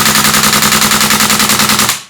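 Tokyo Marui AKX gas airsoft rifle firing full auto, a rapid, even stream of loud close-up shots that stays steady for about two seconds before stopping abruptly.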